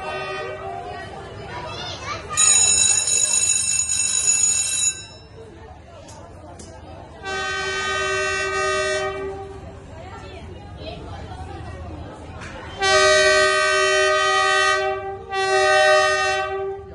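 A train rolls through Hanoi's narrow train street, sounding several long, loud horn blasts in separate bursts over a steady rumble, with clanging bells and crowd voices talking nearby.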